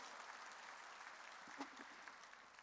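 Church congregation applause, a full, continuous rattle of many hands clapping at once, with a brief louder burst partway through.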